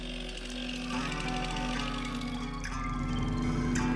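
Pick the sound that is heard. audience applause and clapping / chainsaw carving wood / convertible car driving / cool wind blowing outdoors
chainsaw carving wood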